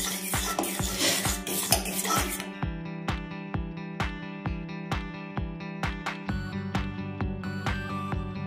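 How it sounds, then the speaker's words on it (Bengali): A spoon scrapes rhythmically around a pot stirring homemade neem soap mixture, a steady series of close scraping strokes over soft background music, starting after a brief rougher rubbing passage. "এবার ভালো করে মিশিয়ে নিচ্ছি।"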